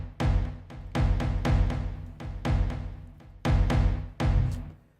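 Zero G Kepler plugin percussion pattern running at an eighth-note rate, with sharp, heavy drum hits and lighter ticks between them in a driving, steady groove, alone and with no voices.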